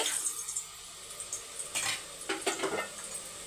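Tomatoes sauté in a pan for a Sunday mutton curry, giving a soft, steady sizzle with a few scraping stirs of the spatula midway and toward the end, close by with no talking.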